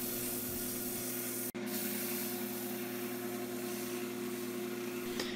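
Continuous hand sanding of a silver maple Mjolnir hammer prop, a close, even scratchy rub under a steady background hum, broken by one brief sharp click partway through.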